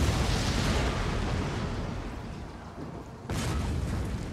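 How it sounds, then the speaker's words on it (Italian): Battlefield explosions in Total War: Rome 2, a dense, rumbling barrage of booms that fades slightly before a sharp new blast bursts in. "Guardate, continua a esplodere."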